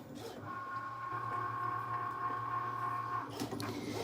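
An electronic die-cutting machine runs a wavy blade through Echo Park paper for Easter treat holders, giving a steady mechanical whir with a thin whine for about three seconds before it stops.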